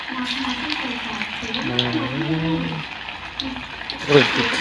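Chicken pakoda frying in hot oil gives a steady soft sizzle under conversation, with a sharper crackle of oil near the end.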